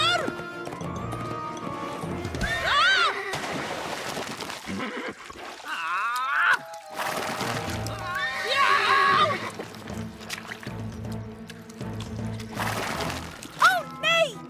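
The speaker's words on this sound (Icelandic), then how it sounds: "Ó nei, hesturinn er fastur í leðjunni." A horse stuck in mud neighs and whinnies in an animated children's firefighter episode, its calls repeated against music and splashing sounds, with people talking throughout.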